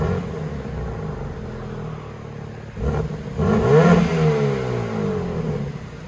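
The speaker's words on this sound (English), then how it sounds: "2022 BMW M3 competition. This is what it sounds like before." A 2022 BMW M3 Competition with a 3.0L twin-turbo engine and dual exhaust idles with a steady rumble, then revs in a loud rising and falling roar before settling back, heard up close.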